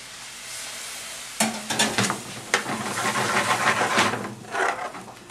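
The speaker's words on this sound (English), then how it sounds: "Now in with our first ladle of base gravy." A ladle of base gravy hits a hot pan of frying spices with a sudden loud sizzle, followed by bubbling, spitting and the clatter of stirring as the Lamb Balti sauce cooks close up.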